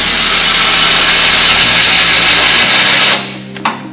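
Power tool whirring steadily while removing motor mount bolts on a 1999 Honda Civic Si, a loud continuous mechanical drone that cuts off near the end, followed by a brief clink.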